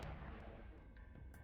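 Cannons firing aboard a Dominix battleship in the space game Eve Echoes, faint muffled booming thuds in a low rumbling stream, with a few soft distant pops scattered through.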